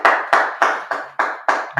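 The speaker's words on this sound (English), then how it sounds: "Clap that up." Six loud, evenly spaced claps ring out in steady rhythm about a third of a second apart, close and crisp with short reverberant tails, with no talking over them.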